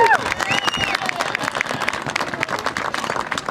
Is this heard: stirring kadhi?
no